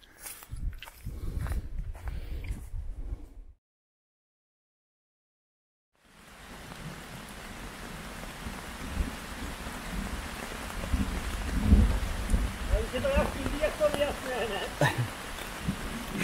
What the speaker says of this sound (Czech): Už nám tady hřmí, začalo pěkně pršet